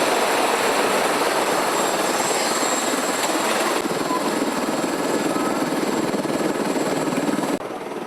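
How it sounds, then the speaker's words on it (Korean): A tourist helicopter lifts off for a scenic flight over the Twelve Apostles coastal cliffs in Australia, its rotor and turbine giving a loud, steady, close-up drone that continues without a break. "드디어 우리를 태운 헬리콥터가 힘차게 날아오른다."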